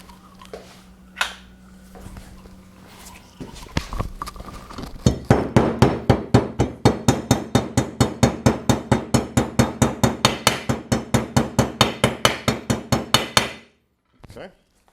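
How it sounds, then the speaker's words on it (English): Light hammer taps seat a new seal on a Briggs & Stratton Quantum lawn mower engine: a steady run of about thirty quick, evenly spaced metallic taps, close and fairly loud, preceded by quiet handling noise. "Let's just lightly tap it in there"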